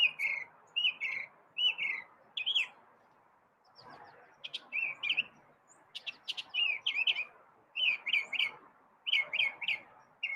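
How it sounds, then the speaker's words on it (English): A songbird chirps in the morning in bursts of bright, rising tweets and short trills, repeated every second or so with brief pauses, close and clear over faint background. "He's just chirping up a storm this morning."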